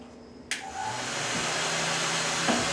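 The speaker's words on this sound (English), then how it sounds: "Maybe we'll put a heat gun on it." A heat gun switches on with a sharp click and settles into a steady, loud rush of hot air, blowing continuously near the microphone.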